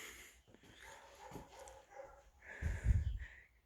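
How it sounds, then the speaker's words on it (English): Dogs bark in the background outdoors, a few quiet, distant barks and yips that grow briefly louder toward the end. "other than the barking dogs in the background"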